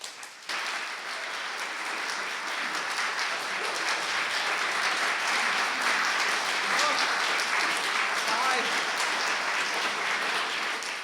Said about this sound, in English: Great big round of applause for Shawnn Monteiro. Let us hear it.